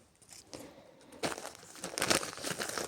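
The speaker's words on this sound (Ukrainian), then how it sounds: "Ми так гарненько зараз її будемо розпаковувати." A parcel is unpacked, its plastic packaging crinkling and tearing. The rustle starts soft and sporadic, then grows into louder, close-up crackling and ripping bursts.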